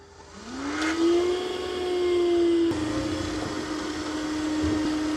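A Dreame X50 Ultra robot vacuum spins up and vacuums, its motor rising to a steady high whine with a constant hum, heard close and alone.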